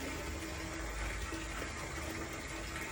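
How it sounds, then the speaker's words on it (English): Grape brandy wash pours into a copper pot still in a steady, continuous rush of liquid, close and fairly loud throughout, with no talking. "now we're pouring the wash over into the pot"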